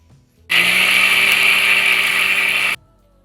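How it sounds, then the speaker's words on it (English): A mixer grinder whirs loudly for about two seconds, blending cooled masala into a paste. The steady high-pitched motor whine starts and stops abruptly against near silence. "We're going to grind this into a paste and keep it aside."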